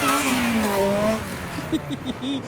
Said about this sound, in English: there is the Grape R33 providing the revolutions